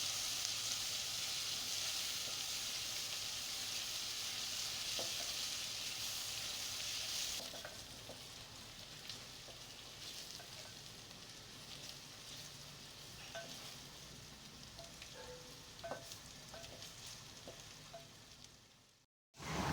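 Ginger garlic paste with chana dal sizzles and fries loudly in a pan, dhaba style, with a bright hiss that drops to a softer steady crackle partway through and small stirring clicks.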